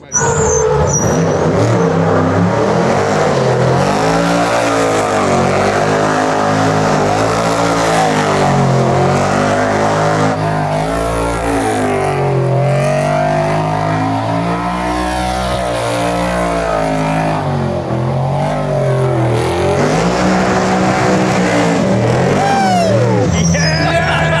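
An AWD trophy truck does donuts, its engine roaring loud and continuous with rising and falling revs as it circles, close and dominant throughout, with voices talking over it.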